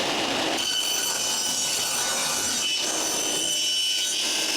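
A power saw blade rips through wood for a raised planter box in a small home shop, giving a loud, sustained rasping cut that dips briefly twice and runs on throughout with no talking.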